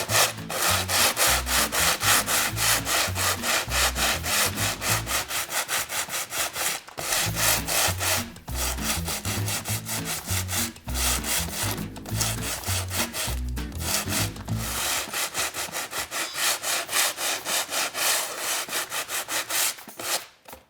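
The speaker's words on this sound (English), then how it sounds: "I'm going to use an 80 grit piece of sandpaper, and I'm going to sand the area where I have applied my Stencil of Paris paste" Painted wood sanded by hand with 80 grit sandpaper over a stencil paste finish, loud rhythmic back-and-forth rasping strokes in steady runs with brief pauses, close up and without talk.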